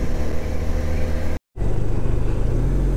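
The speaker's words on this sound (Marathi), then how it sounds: "ट्रॅफिक लागले" Steady low engine rumble of cars idling and creeping in a traffic jam, heard from inside a vehicle, with a brief dropout midway and no talk.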